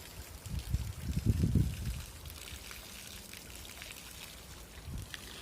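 Water from a motor-fed hose runs at a buffalo stable, starting with a louder splashing gush in the first two seconds, then settling into a faint, steady trickle and patter.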